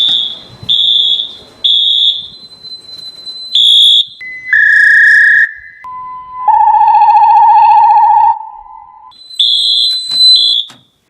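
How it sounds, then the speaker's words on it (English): A loud building security alarm sounds during a system test, repeating shrill electronic beeps and sustained tones that step through different pitches. The pattern stops and restarts several times over about eleven seconds, with no voices. "this alarm is probably driving the neighbors crazy"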